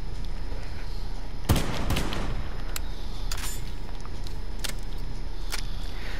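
Gunfire in the video game Call of Duty Black Ops III, one sharp shot followed by a few fainter distant pops over steady game ambience.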